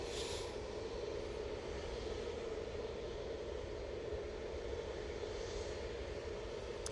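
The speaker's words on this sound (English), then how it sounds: "Off to Lanza with this A320 Neo." An Airbus A320neo departing Manchester Airport on a cold day, its engines giving a steady, broad jet roar that holds unbroken throughout, with no talk over it.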